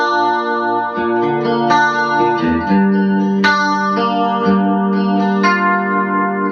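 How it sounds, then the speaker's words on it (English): Electric guitar run through a chorus effect pedal on a pedalboard, playing a steady, loud sequence of shimmering notes and chords with wide, swirling modulation and no talking. "If I add some chorus, it'll give me that."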